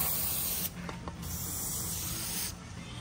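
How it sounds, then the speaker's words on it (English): Compressed air blasting debris out of an engine gasket groove during fuel injector work, a close, loud steady hiss with two short bursts of change in intensity. "And blow it out with some air"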